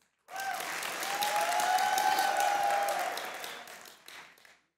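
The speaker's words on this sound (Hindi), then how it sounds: "जोश और जज्बे के साथ जोर से तालियां बजानी है।" Studio audience applause on a cricket talk show, starting abruptly, holding strong for about three seconds with a whistle-like tone over it, then tapering off.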